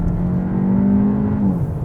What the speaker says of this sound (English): you can hear a little crack from the exhaust